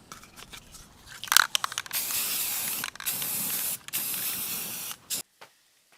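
An aerosol can sprays primer onto the body of a 2006 Fleetwood Niagara pop-up camper in a long, close, steady hiss. The spray is broken by brief pauses and rattling clicks, then stops abruptly near the end.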